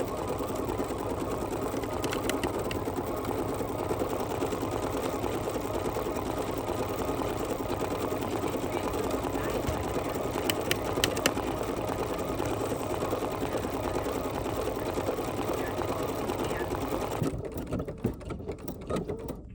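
An embroidery machine stitches out a design continuously at steady speed, a dense mechanical whir with rapid needle clatter, close and loud, stopping near the end.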